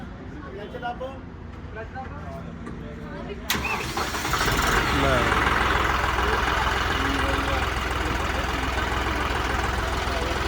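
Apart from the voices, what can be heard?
tractor engine starting and idling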